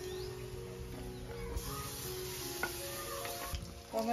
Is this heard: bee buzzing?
no